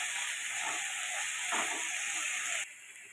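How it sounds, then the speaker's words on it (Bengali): Bombay duck fish frying in mustard oil in a pan, a steady loud sizzling hiss that drops slightly near the end, with no talk. "তেলের মধ্যেই কিন্তু মাছটা পুরো ফ্রাই হয়"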